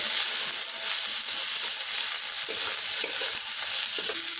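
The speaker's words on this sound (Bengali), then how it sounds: "মোচাটা এখন ভালো করে ভেজে নিতে হবে।" Banana flower frying in hot oil for vegetarian mocha chop, a steady bright sizzle with stirring scrapes throughout, close and continuous with no talk.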